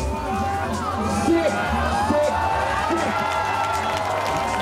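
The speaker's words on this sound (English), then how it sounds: "finishing up with a huge backflip to massive cheers from the crowd" A crowd at a freeride ski event in Verbier cheers and claps, a loud, continuous wash of voices and shouts with a commentator talking over it throughout.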